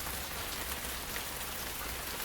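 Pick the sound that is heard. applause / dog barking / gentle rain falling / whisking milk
gentle rain falling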